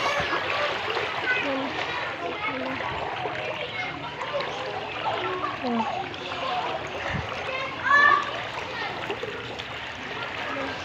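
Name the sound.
strong flood water current splashing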